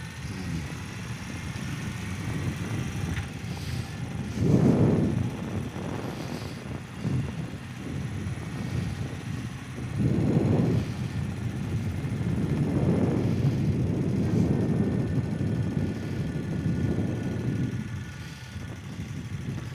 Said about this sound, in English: So bike's running, put it in gear.